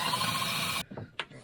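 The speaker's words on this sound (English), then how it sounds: "we'll just drill it out and do another one" Drilling out a part during custom vintage snowmobile work: a steady, loud motorized whir runs for most of a second, then cuts off, leaving a few short knocks and a brief sharp clatter.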